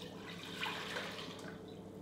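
River Cottage cider poured over a ham hock for a sticky roasting glaze, a steady close trickle of liquid running continuously for about two seconds with no voices.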